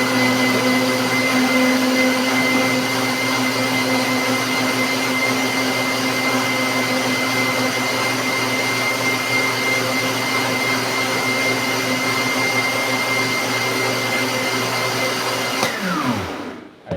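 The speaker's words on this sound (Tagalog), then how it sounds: "Okay, blender na natin mga friends." Kitchen blender running continuously while blending papaya and cucumber, a loud steady motor whine with a constant hum that holds for over fifteen seconds before winding down abruptly at the end.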